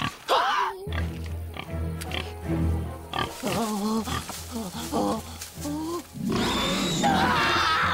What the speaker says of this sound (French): Le cochon sauvage royal!